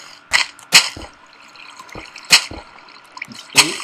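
Water from a placed block in a base-raiding video game drips and splashes in a few sharp, close bursts spaced irregularly over a steady low background.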